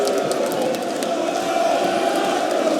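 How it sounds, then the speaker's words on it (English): Darts crowd at the Dutch Darts Masters 2019 final between Michael van Gerwen and Ian White cheering loudly, a steady dense roar of many voices filling the hall. "The crowd find their voice."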